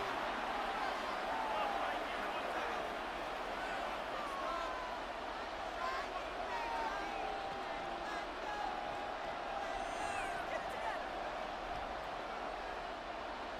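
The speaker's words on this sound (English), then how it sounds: "Crowd on their feet." A stadium crowd in the Madden 26 football video game roars and cheers steadily as a dense, continuous wall of noise, with no clear breaks.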